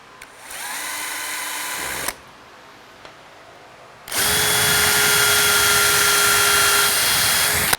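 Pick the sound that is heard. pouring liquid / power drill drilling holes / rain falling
power drill drilling holes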